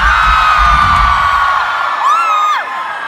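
A concert crowd at a live show in Kuala Lumpur cheers and whoops loudly and continuously, with rising and falling shrill whoops cutting through the sustained roar of the audience.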